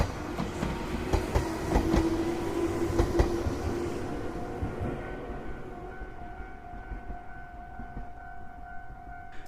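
A passenger train rumbles and clatters along the rails at Ramnagar railway station, loud at first with rhythmic clicks, then fading into a quieter steady hum with a faint sustained tone.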